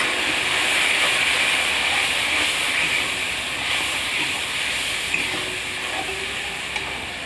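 Spices, onions, salt and turmeric sautéing in a hot pan for a Bengali fish curry give a steady, close sizzling hiss with faint stirring scrapes, continuous throughout and with no voices.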